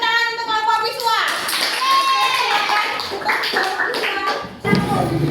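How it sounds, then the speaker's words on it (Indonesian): A classroom of schoolchildren at a group presentation claps briefly, with taps and hand sounds scattered among lively children's voices and sung or chanted tones. "Beri tepuk tangan untuk kelompok visual."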